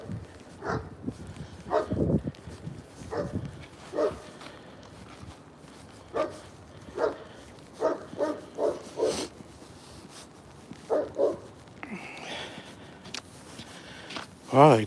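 A big dog barks in short bursts during a morning walk, with scattered loud barks coming and going over several seconds, footsteps and people speaking in between.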